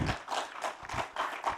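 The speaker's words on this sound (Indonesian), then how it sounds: "yang paling keras tepuk tangan kawan-kawan PDIP" Audience applause at an Indonesian political speech on cooperatives, a dense burst of clapping with rhythmic swells, fairly loud and continuous with no talking over it.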